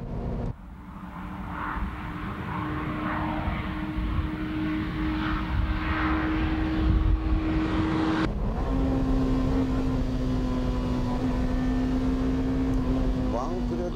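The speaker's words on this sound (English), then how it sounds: "Let's see how the car reacts at full throttle without slalom." Engine of a sports car, either a new BMW M3 or a Honda Integra DC5, drones at full throttle on a windy test track, a loud steady tone that dips abruptly midway, then holds strong again.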